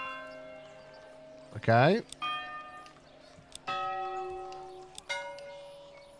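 A church bell rings in the medieval strategy game Manor Lords, with sustained metallic tones that strike and decay several times, partly under a voice.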